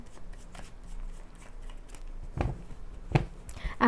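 Tarot cards are shuffled by hand in a soft, continuous riffling with several sharper snaps as cards are drawn and set down, close and alone.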